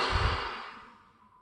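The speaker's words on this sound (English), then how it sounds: "I'm going to take in a big breath." A single deep breath drawn in quickly and fairly close, an airy rush that fades away smoothly over about a second and a half.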